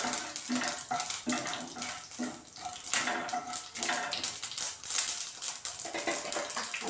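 Cumin seeds frying and being stirred in a pan for cabbage bhaji, a steady crackle with scraping strokes and light clinks at close range, no voices.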